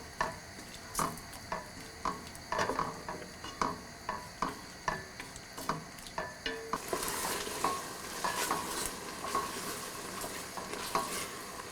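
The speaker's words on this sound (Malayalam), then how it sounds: "ഇളക്കിക്കൊണ്ടേയിരിക്കണം. ശർക്കരപ്പാനി നന്നായിട്ട് കുറുകണം." A spoon stirs ada through thickening jaggery syrup in a pan, giving soft regular scraping strokes with a low bubbling sizzle underneath, close and fairly quiet, the bubbling rising toward the end, with no talk.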